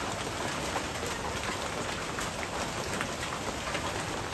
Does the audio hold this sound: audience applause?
no